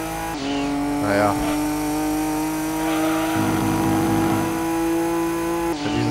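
A car engine revs loudly while racing in Gran Turismo 2, a steady droning tone that steps up in pitch midway through and holds, with someone talking over it.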